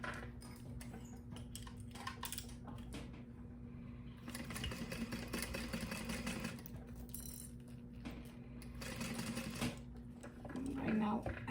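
A sewing machine stitching a half-inch seam on a square crossbody bag runs in steady whirring stretches with brief pauses, close up. A voice talks over part of it.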